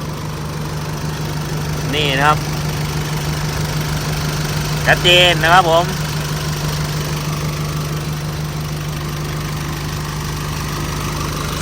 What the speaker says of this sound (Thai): เสียงเครื่องยนต์เขาไม่เพาะนะ ไม่เพาะเลยนะครับ ตอนนี้สตาร์ทขึ้นมานิ่งจิ๊บเลยนะครับ